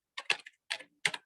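A few quick keyboard taps come in three small bursts of light clicks while entering text in an Excel spreadsheet, close and fairly quiet with silence between.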